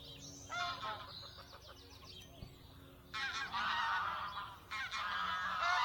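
Geese or ducks honking loudly at a clay pit fishing lake in the morning, repeated bursts of harsh calls coming in several waves, fairly close and clear over a quiet outdoor background.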